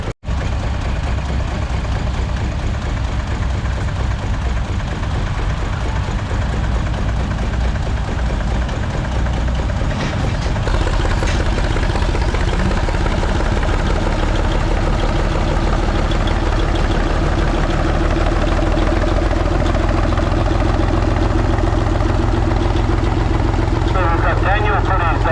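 A vintage McCormick-Deering W30 tractor, built in the 1930s, runs at an outdoor tractor pull: a loud, steady low engine rumble that continues throughout and builds slightly in the second half, with someone talking over it.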